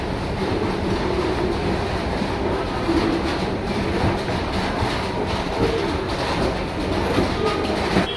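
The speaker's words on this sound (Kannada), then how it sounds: "ಇಲ್ಲಿ ಯಾವುದೋ ಟ್ರೈನ್ ನಿಂತಿದೆ" Rumbling rail noise from a train standing at platform six of a railway station, steady and fairly loud, with faint clatter and distant ambient sounds mixed in.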